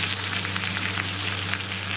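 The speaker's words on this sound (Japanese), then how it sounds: "肉の油で焼くと煙がめっちゃ出るじゃないですか。" Meat for ramen-shop chashu searing in its own fat at a roadside ramen diner gives a steady, dense sizzle and crackle that stays even and close throughout, with no talking.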